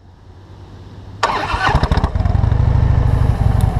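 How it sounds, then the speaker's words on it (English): A Harley-Davidson cruiser motorcycle engine starts up from a quiet background, cranking into a loud, sputtering rumble that settles into a steady, close idle with uneven pulses. "I saddled up and rode a Harley for the first time."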